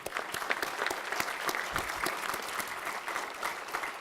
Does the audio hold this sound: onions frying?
no